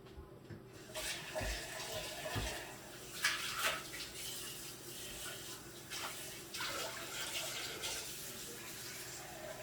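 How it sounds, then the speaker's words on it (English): Water pours from a pitcher into watermelon agua fresca, a soft continuous splashing and gurgling stream heard close and fairly quiet with small bursts of louder pouring. "And I'm going to do a little bit more water."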